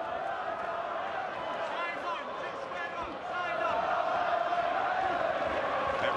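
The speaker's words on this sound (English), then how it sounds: "he gets the big cheer of the crowd" Crowd noise at a boxing match, Anthony Crolla versus Darleys Perez rematch, a broad arena roar that swells louder partway through, with a commentator talking over it.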